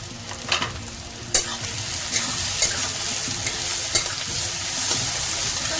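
Chopped green chillies frying in a pan for a masoor dal egg tadka, a steady close sizzle punctuated by several sharp spatula scrapes and taps.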